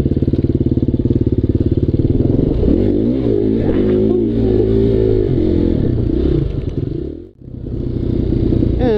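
A KTM 250 XCF-W dirt bike engine revs hard and close, with a steady loud roar that rises and falls, then dips sharply before climbing back to full throttle.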